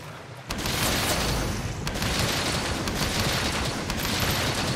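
Dense, continuous bursts of video game shotgun fire boom loudly and nearly nonstop, with a few brief dips in the barrage.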